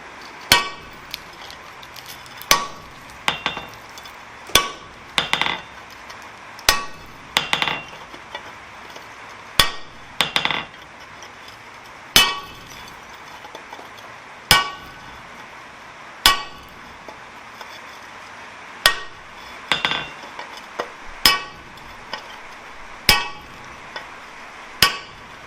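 Loud, sharp metallic hammer strikes on hot steel over a cutting plate ring out one after another at an uneven pace, each blow followed by a brief clanging ring.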